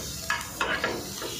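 Onion, garlic and ginger frying in butter in a pan, a low steady sizzle broken by a few soft scraping stirs of a utensil, close and quiet.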